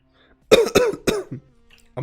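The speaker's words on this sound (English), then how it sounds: "I'm coughing." A person coughs and clears their throat in a quick cluster of three or four harsh bursts close to the microphone, followed by quiet and a brief sound at the end.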